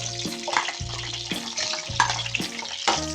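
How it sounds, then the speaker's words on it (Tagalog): Banana pieces fry in hot cooking oil, a loud close sizzle with stirring scrapes and a few sharper spatters over about three seconds, no talking. "Fry natin yung ating banana."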